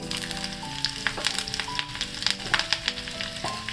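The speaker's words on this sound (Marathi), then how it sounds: "त्यासाठी मी एका कढईमध्ये तेल गरम करून घेतलेलं आहे त्याच्यामध्ये मोहरी घालते" Mustard seeds and green chillies tempering in hot oil in a kadhai, a continuous crackling sizzle with sharp pops scattered across the whole stretch, close and alone.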